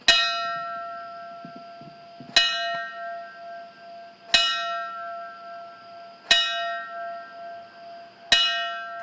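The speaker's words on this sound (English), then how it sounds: "The bells are rung in remembrance of the firefighters who died in New York City during 9/11." A single ceremonial firefighter alarm bell strikes five times at slow, even intervals at a 9/11 memorial, each clear ringing tone decaying before the next; a quiet background otherwise.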